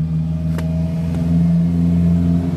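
A Honda Vario carburettor motorcycle engine with a flooding fault runs nearby with a steady tonal hum and slight revving, with two faint clicks early on.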